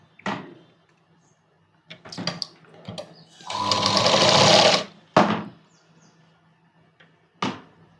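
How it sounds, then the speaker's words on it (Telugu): A sewing machine stitches a kids' night dress in short bursts, with one longer steady whirring run in the middle and brief clunks and pauses between, close and clear with no speech. "ఇలా రివర్స్ తీసి స్టిచ్ చేసుకోవాలి."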